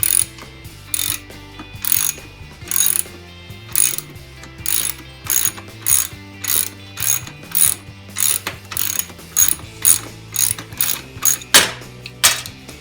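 Ratchet clicking while backing out the axle nut on an SSR 125 pit bike, in repeated bursts of rapid pawl clicks with short pauses between strokes, close and clear without talk.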